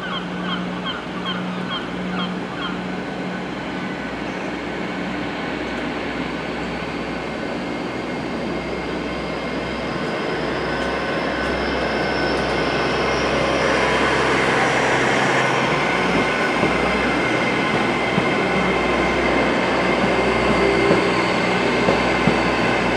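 A Great Western Railway train pulls out of a station, its engine rumble and wheel noise building steadily and growing louder over about twenty seconds, with a brief tone early on.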